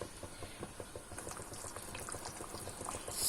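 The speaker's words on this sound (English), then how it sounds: "So we leave it to boil for a bit and then we keep stirring back again." Sambal with clams boiling in a pan over medium-high to high flame, with a dense, continuous bubbling and popping that swells slightly toward the end, close and moderately quiet, no talk.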